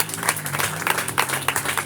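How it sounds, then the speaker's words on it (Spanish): A church congregation claps in praise, a brief burst of applause with uneven swells over a steady low tone, moderately loud and without talk. "Fuerte, fuerte ese aplauso al Señor."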